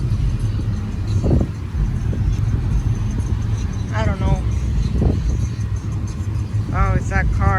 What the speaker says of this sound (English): Oh, it's that car. Tiny car.